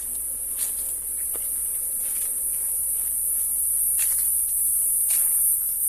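A constant high-pitched buzz of honeybees fills the air around traditional hollow-log and basket hives, with faint rustling and occasional soft knocks beneath it.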